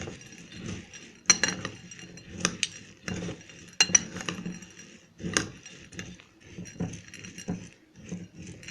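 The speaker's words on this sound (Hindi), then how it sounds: "मिक्स करते हैं अभी हम।" A spoon scrapes and clinks against a dish while masala is mixed into chana dal, the close clatters and knocks coming in an irregular rhythm with no talk.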